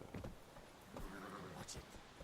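Hoofbeats and a brief whinny from a horse in The Witcher 3: Wild Hunt, short clip-clopping steps with a high neigh near the end, mixed under a voice.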